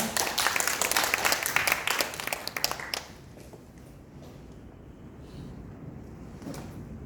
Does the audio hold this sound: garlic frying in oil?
no